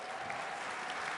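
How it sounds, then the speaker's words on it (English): Continuous applause from a large crowd at a political conference in Florida, a dense even wash of clapping with no talk, heard from within the room. "Let's give them a round of applause."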